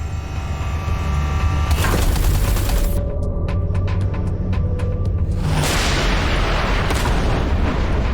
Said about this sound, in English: Watch out. The artillery.